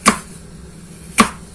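A knife cuts through unpeeled apples into small cubes on a board, two sharp, crisp chops about a second apart, close and clear against a quiet room.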